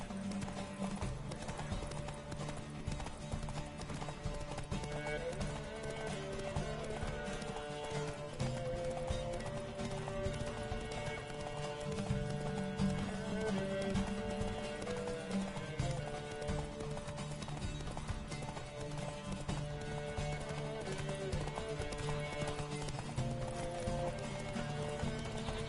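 Horse Roach gallops in a video game race, a steady clip-clop of hooves running continuously throughout over a dense, busy background.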